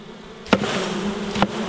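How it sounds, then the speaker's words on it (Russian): Honey bees shaken off a hive frame by a beekeeper make a dense, continuous close buzz, punctuated by two sharp knocks as the frame is jolted. "а пчел мы сейчас струсим"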